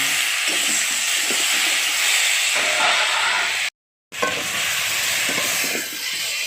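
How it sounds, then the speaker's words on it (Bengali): Spice paste fries in a pan for a pabda fish curry with potato and aubergine, a loud continuous sizzle and hiss close up with faint scraping stirs beneath, broken by a brief silent gap. "এবার অর্ধেক ভেজে রাখা মশলাটা দিয়ে দিচ্ছি দিয়ে এভাবে কিছুক্ষণ আমি নাড়ব"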